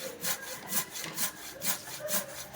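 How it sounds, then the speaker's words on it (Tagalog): A hand saw cuts through wood in steady rhythmic push-pull strokes, about two per second, close and rasping with no talk. "yung hagod lang ng lagari, huwag mo ililiin, mapapagod ka niyan"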